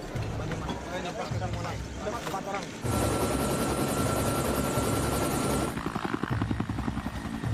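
A helicopter flies during a search for a vanished plane, its loud rotor and engine roar rising and then sustained, mixed with narration and background music.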